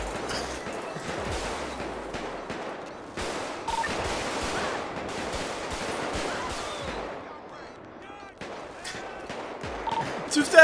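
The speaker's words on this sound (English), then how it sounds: "Shots fired!" Rapid bursts of gunfire erupt in a GTA roleplay game, dense overlapping volleys and automatic fire running almost continuously, with excited voices talking over the shooting and a brief lull before more shots.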